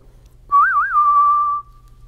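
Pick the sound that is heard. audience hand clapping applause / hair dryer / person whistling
person whistling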